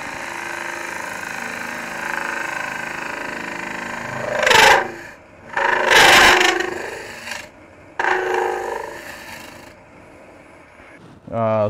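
Sorby ring tool cutting wood on a lathe, with several loud rasping cuts in short bursts between quieter stretches of the spinning lathe's hum.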